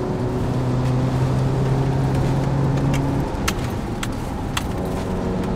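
A VW T25 van fitted with a 113 hp Golf GTI petrol engine accelerating hard in second gear, a steady loud engine drone with rising tones, continuous throughout with a few faint clicks near the end.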